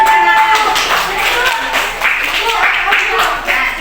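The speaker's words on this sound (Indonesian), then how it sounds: "Tepuk tangan." Children clap and applaud in a classroom, a burst of brisk, uneven clapping heard fairly close, mixed with voices and chatter over the whole stretch.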